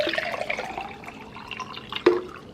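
Twice-filtered water poured into a container, a soft trickling stream with a brief splash near the end, close and quiet with no talking.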